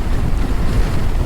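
Wind rushes over a motorbike rider on a cool monsoon road near Sringeri, a loud, continuous roar with no talking.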